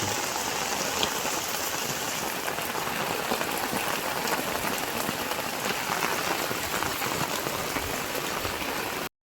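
Steady rain falling on surfaces in a village during the rainy season, a dense, constant hiss of drops that stays even and fills the whole stretch with no voices.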